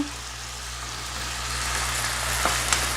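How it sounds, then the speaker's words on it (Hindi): Cut potato and ginger-garlic paste frying in a pan: a continuous soft sizzle with a low steady hum beneath it, plus a couple of faint taps near the end. "1 आलू कट करके इसमें डाल देंगे। साथ ही साथ इसमें अदरक लहसुन का पेस्ट डालूंगी मैं 1 टेबल स्पून भर के। इसे फ्राई करेंगे।"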